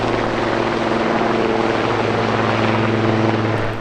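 A helicopter passes close by near a heliport on the British Columbia waterfront, its steady loud rotor thump and engine drone filling the whole stretch with no talk.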